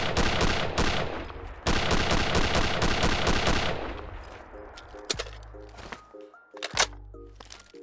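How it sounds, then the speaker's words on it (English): FG-42 rifle from a Fallout 4 mod firing its default sound, two dense rapid bursts of loud automatic gunfire followed by mechanical reload clicks and clacks. "there are actually 2 different sound options for this weapon, so I'm going to show both of them, starting with the default sound for this rifle"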